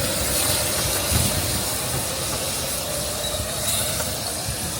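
A steam locomotive on a miniature railway rolls along a slight downhill gradient, a steady rushing hiss of steam and wheel noise close by with a faint rhythmic beat and no talk.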